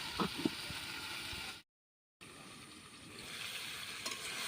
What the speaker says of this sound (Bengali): পুঁই ডাঁটাকে ভালোভাবে কষাতে থাকবো